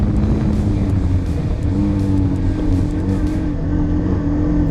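An onboard ride on a Suzuki GSX-S150 motorcycle with an overbored DOHC engine, pulling hard with a steady, loud engine drone and wind rush.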